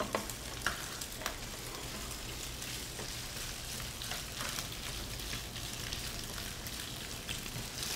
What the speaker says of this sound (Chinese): 听到那个呲呲呲的声音